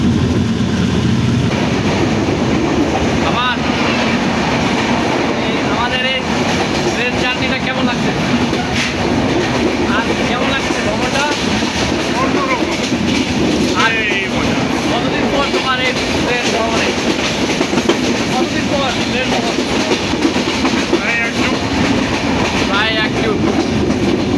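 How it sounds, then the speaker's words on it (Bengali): Panchagarh Express rolling on the rails between Dinajpur and Dhaka, a loud continuous rumble with rhythmic clatter of wheels heard from inside the carriage, with faint voices in the background. "আমরা দিনাজপুর থেকে পঞ্চগড় এক্সপ্রেসে করে ঢাকার উদ্দেশ্যে রওনা ছিলাম"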